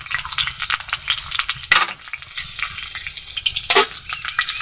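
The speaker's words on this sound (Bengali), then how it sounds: "এগুলোকে নাড়াচাড়া করে আম্মা হালকা ভেজে নিব" Chopped onion sizzles loudly in hot soybean oil in a pan. The crackle is close and steady, with two sharper scraping bursts of stirring.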